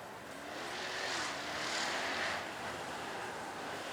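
A supercharged Jaguar F-Type SVR passes at a supercar weekend event at Beaulieu, its engine a faint, distant rush that swells and then fades.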